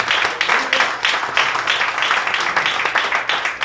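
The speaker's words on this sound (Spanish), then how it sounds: "Denle un aplauso a Cristo" A church congregation applauds during a sermon, producing a dense, continuous patter of clapping that holds steady at fairly close range for a few seconds.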